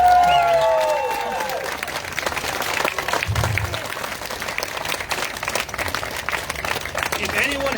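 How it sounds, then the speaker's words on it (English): An audience at Julia Hanna's 2022 Oakville mayoral campaign office opening breaks into a round of applause, dense clapping filling the room and slowly thinning while voices murmur underneath. "Folks, let's give a good round of applause for Julia."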